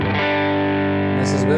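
Distorted electric guitar through a Line 6 HX Stomp XL with no parametric EQ, a thick sustained chord held steadily and loudly, with a brief brighter scrape near the end.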